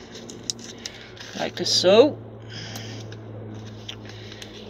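Scissors snip through a piece of card in one short crunching cut, close up, surrounded by quiet talk and a low steady background hum.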